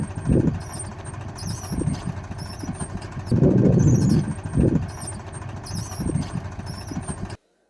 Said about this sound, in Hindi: पोटैटो प्लांटर के ऊपर हमारा ये ट्रैक्टर चल रहा है।